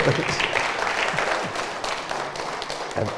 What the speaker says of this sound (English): I think that's another round of applause.